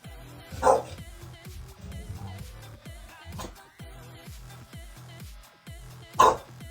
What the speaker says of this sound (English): Please excuse the dog, he's a bit of an idiot.